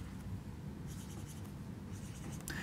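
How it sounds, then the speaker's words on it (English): A pen scratches and taps on a sheet of paper while drawing nine dots in a square, a steady scratchy scribbling broken by a few brief marks, close and alone with no talk. "draw yourself nine dots like that"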